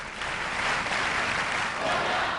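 A Spanish crowd at a Davis Cup tennis match claps steadily as a dense, even wash of applause, with no voices standing out.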